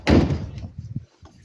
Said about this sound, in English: This door, let's open this.